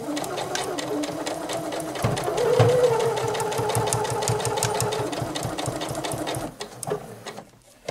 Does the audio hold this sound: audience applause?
no